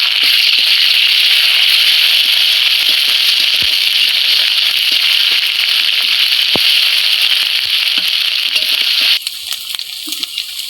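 Onion with bay leaf, then ginger and garlic, sizzling as they fry in a pan in a village kitchen, a loud, steady, close crackling hiss that drops abruptly toward the end.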